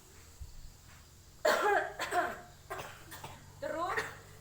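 Coughs demonstrated into the elbow come in several distinct bursts after a quiet start, close and fairly loud, spaced over a few seconds.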